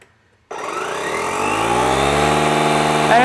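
A DeWalt 20V MAX cordless tire inflator (DCC020I) kicks on after half a second of silence and runs steadily with a rising mechanical whine and dense motor hum, close and fairly loud, with a slight surge near the end.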